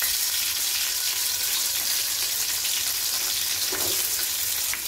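Fenugreek seeds, green chillies and onions frying in oil, a steady close crackling sizzle that stays loud and even throughout, with a brief stir near the end and no talking.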